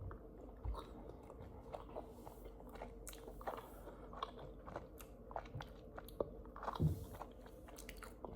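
Crunchy chocolate protein bar being bitten and chewed close up, with soft irregular crunches and moist chewing sounds scattered throughout, a louder bite near the end.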